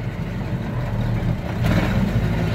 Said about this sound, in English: now ease off the clutch and hit the gas